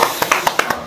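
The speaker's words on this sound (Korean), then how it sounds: "박수 부탁드리겠습니다." A few hand claps land in a quick, uneven run, close and crisp, welcoming a guest.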